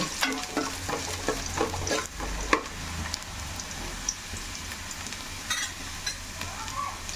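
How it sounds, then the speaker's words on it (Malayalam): Onions, green chilies and curry leaves frying in hot oil, with a steady close sizzle and a quick run of spoon scrapes early on, then quieter sizzling with a few scattered stirs. "നമുക്ക് നമ്മുടെ ഉള്ളിയും പച്ചമുളകും കറിവേപ്പില ഇട്ട് കൊടുക്കാം."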